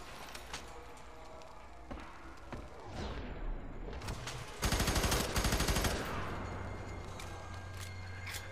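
Gunfire in the shooter F.E.A.R., quiet overall, with scattered single shots early and then a rapid, dense burst of automatic fire in the middle before the sound settles into a low hum.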